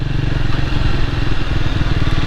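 A Triumph Speed 400 motorcycle with its exhaust running close by, a loud, steady, throbbing engine note that holds an even pitch without clear revving peaks, and no voices over it.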